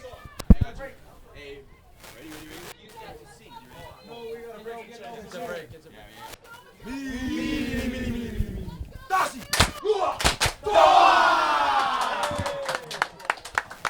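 A rugby sevens team at a tropical sevens tournament chants a team cheer together, loud group voices with shouts and thumps rising toward the end after quieter talk at the start.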